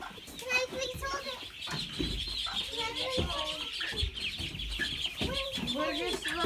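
Chickens, including bantam game hens, cluck and chirp busily inside a brooder house, a near, continuous chatter of several birds with people's voices mixed in.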